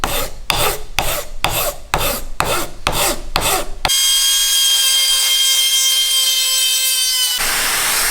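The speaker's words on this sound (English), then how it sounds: "I'm going to use my Dremel" Dremel rotary tool working a motorcycle handlebar, first a rhythmic series of about eight short rasping grinding strokes, then a steady high-pitched motor whine that holds for several seconds before cutting to a duller hum.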